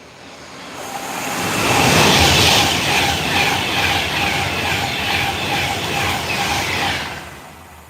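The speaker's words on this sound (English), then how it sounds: "they are the Avanti West Coast Class 390s. They go through here at roughly 125." An Avanti West Coast Class 390 express train passes at around 125 mph in pouring rain, a loud rushing roar that swells within a second and holds steady for several seconds before starting to fade, with no voices over it.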